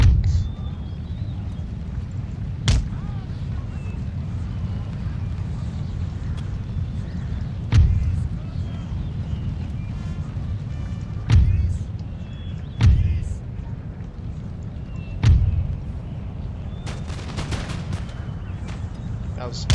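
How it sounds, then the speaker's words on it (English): Musket volleys crack out in Empire: Total War, several sharp loud reports spaced a few seconds apart over a steady low battlefield rumble, with a quick rattling burst near the end. "Damn it, he's gonna shoot on me. And now he shoots."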